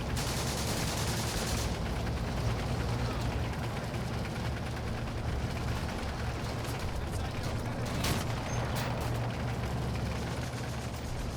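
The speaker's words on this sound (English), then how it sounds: "I bet that must have been an Italian anti-tank rifle" Dense gunfire and heavy weapon reports fill a desert battlefield at the Nibeiwa Fort attack in Combat Mission: Afrika Korps, with sharp loud cracks around eight seconds over a constant rumbling roar, including an Italian anti-tank rifle.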